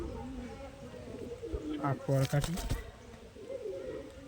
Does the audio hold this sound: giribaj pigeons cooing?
yes